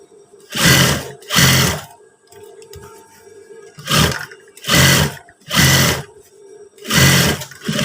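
A sewing machine stitches the bottom hem of trousers in short bursts, about six loud whirring runs of under a second each, separated by brief pauses.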